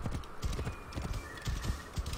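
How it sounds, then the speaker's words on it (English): A horse in Assassin's Creed Origins gallops with fast, steady, close hoofbeats, alone without talk. "Way for us to call in our horse."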